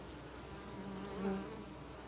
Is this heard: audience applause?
no